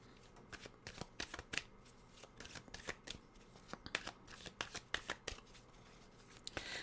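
Tarot cards shuffle softly and steadily in quick riffling bursts, a quiet, close papery flutter with light snaps and no voice over it.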